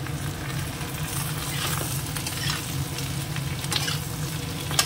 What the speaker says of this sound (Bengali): এবার একটু ভেজে নিই। পেঁয়াজটা ভাজা হয়ে গেছে, মিশিয়ে দিলাম। এবার দিয়ে দেবো ঝিঙেটা